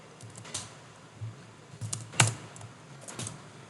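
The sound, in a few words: typing code on a computer keyboard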